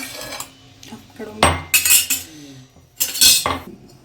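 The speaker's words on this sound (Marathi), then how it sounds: "आता याच्यात थोडं तिखट घेऊन घेते अंदाजाने आपलं जेवढं तिखट पाहिजे आणि हे छान आता कुटून घेते" Garlic, roasted cumin and chili powder are pounded together, producing loud close metallic clinks and knocks in two clustered bursts separated by quieter gaps.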